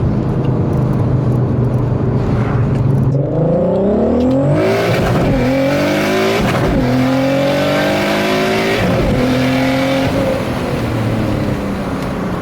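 A 515 hp Audi A3 3.2 turbo accelerates hard through the gears, its engine note climbing loudly in pitch, stepping down at each quick shift and climbing again, close and continuous.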